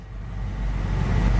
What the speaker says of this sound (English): Fan kicks in.